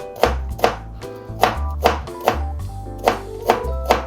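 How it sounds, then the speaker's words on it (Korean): A knife slices cucumber thinly on a cutting board for cold cucumber soup, producing about ten crisp, evenly spaced chops with a hollow board knock, close and clear with no talking. "오이 냉국에 들어갈 오이는 좀 얇게 쓸어줄게요"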